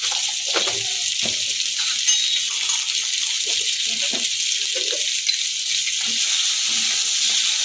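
Continuous sizzling of spices with black salt frying in a hot pan, with occasional stirring scrapes and clinks over the hiss.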